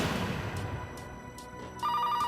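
A landline telephone rings in a room, its electronic bell trilling in short repeated bursts, clear but moderately quiet.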